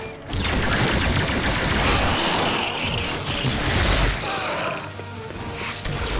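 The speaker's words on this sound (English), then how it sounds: "It's just a machine gun." A machine gun's alternate fire in a Star Trek game, letting off a loud dense burst of heavy blasts with crashing impacts, sustained for several seconds before tapering off.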